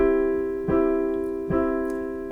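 Piano chords struck once on every quarter note in a steady 4 pulse for a children's song, each attack ringing into the next, clear and moderately soft with no voice.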